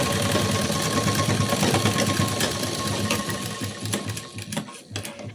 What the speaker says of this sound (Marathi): आता त्याच्या बाजूला शिलाई देऊन घेते.